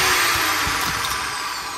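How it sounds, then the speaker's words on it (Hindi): An electric drill bores a hole through a pet cage, giving a loud, steady whirring grind that runs without pause and with no voices. "सुराख जो है हमने यहाँ से निकाल लिया है, एक्चुअली ड्रिल मशीन से निकालना काफ़ी ज़्यादा टफ हो रहा था"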